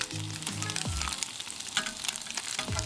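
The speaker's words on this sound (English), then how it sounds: "Put that into a piping hot griddle pan. Cook it out until you get some nice griddle marks on there." Thin tofu slices sear in a piping hot griddle pan, giving a steady close sizzle and crackle with a few brief low thumps, and no voices.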